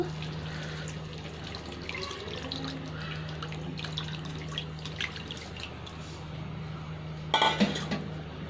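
Tamarind pulp goes into a fish curry and gets mixed, with soft wet clinks of a utensil against the pot and faint dripping over a steady low hum, a sharper clatter of metal near the end.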